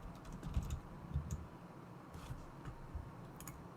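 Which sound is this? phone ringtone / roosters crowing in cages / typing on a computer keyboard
typing on a computer keyboard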